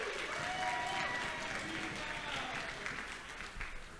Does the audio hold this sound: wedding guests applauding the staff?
yes